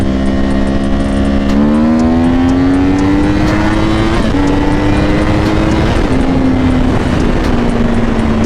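A Yamaha R1 sport bike fitted with a 520 chain and a -1 front sprocket screams through hard acceleration, its engine pitch climbing steadily, dropping at a quick shift into second gear and climbing again, loud and close.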